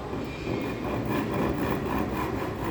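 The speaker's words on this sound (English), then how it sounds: "Now cut this plywood. Okay, with help of hacksaw frame which are used in a workshop." A hacksaw cuts through a sheet of plywood in a workshop, giving a steady, continuous rasping drone with even strokes running close and fairly loud throughout.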